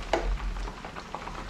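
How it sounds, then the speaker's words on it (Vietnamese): Chicken wings deep frying in hot oil give a soft, steady sizzle and crackle, heard close and fairly quiet over a brief span with a few small pops. "Rồi, cánh gà chiên trong khi chờ đợi."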